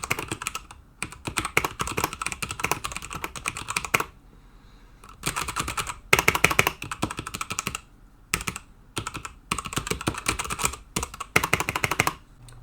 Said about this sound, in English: Here's a little typing test of what it sounds like.